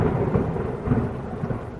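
Deep rolling thunder rumbles beneath a steady wash of heavy rain, a loud, continuous storm sound effect with swelling low booms and no voices.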